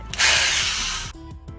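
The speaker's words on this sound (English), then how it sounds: "I marked out where I wanted to drill the speaker holes" A small drill bit bores speaker holes for a homemade BMO figure, a loud steady whirring drill burst of about one second, then spinning down, with a faint knock or two near the end.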